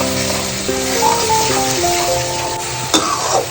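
Cumin, cardamom and cinnamon frying in oil in a pan give a steady crackling sizzle with a faint stirring scrape and one sharp clink near the end, close by and with no talking.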